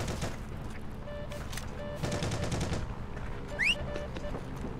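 Automatic and rifle gunfire in the WWII shooter Heroes and Generals, dense bursts of rapid shots crackling through most of the stretch, with a brief squeaky whistle near the end.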